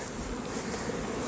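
Honey bees buzz steadily at a failing hive with hive beetle trouble and wet-looking frames: a dense, continuous drone of many bees, close and even in loudness throughout.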